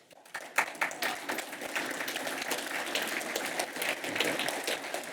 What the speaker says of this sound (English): if you want to give Administrator Bridenstine some applause, please do it now.